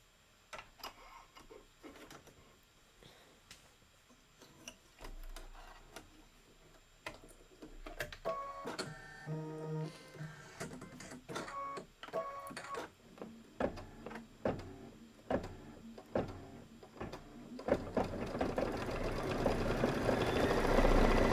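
A sewing machine stitches background quilting on a table topper in irregular runs of fast mechanical ticking and whirring. The runs start and stop and grow louder and more continuous toward the end.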